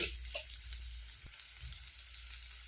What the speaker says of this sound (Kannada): ಇವಾಗ ಇದಕ್ಕೆ ಸ್ವಲ್ಪ ಇನ್ನೂ ಚೆನ್ನಾಗಿ ಫ್ರೈ ಆಗ್ತಾ ಬರಲಿ